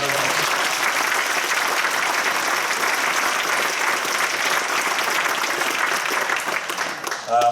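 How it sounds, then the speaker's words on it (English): Dense, steady audience applause at a flute band's 50th anniversary concert, loud and continuous for about seven seconds before thinning out briefly at the end. "Give them a big round of applause"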